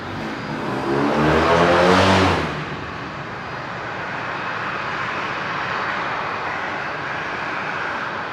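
A Virgin Fokker 70 jet takes off from runway 01 right at Brisbane International: a loud, broad engine roar swells to a peak early on, then settles into a steady distant rumble.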